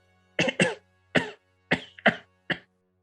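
A voice imitates coughing: six short, sharp coughs in uneven bursts, close and fairly loud, with brief pauses between them and no other sound.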